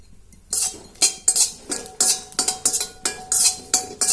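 Elakkaya pieces for chutney roast in a metal pan, heard as a brisk series of loud clinking, scraping stirs against the metal, roughly a dozen close strokes in quick succession.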